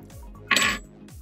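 Glass containers clink together once in a toast during a hot sauce tasting, a short bright chink standing out from a quiet room.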